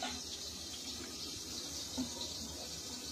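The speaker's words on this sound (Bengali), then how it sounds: "আলুটা দিয়ে একবার ধোয়া দিই হবে নাকি? ধুয়ে পেঁয়াজটা ধুয়ে নি।" Potatoes and onions being washed under running water make a soft, steady faucet gush with light splashing, faint and continuous over a few seconds.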